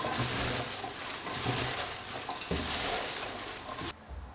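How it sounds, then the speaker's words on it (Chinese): Hands mix chopped vegetables with coarse salt for pickling, a close, continuous wet rustling and crunching that stops abruptly near the end. "然后下手给它搅拌均匀，杀出菜里面的水分"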